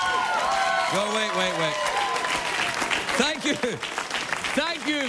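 A studio audience at a late-night talk show claps and applauds loudly and steadily, with a voice talking over the clapping.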